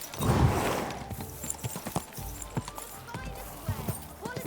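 Horse hooves clip-clop at a steady walking rhythm in the medieval video game Kingdom Come 2, close and distinct over a busy game soundscape, with a brief whinny at the start and someone talking throughout.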